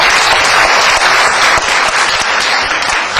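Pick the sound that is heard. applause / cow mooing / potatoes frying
applause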